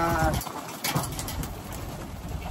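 Racing pigeons in a loft coo and flutter close by, a busy soft chorus of bird calls under a man's speech.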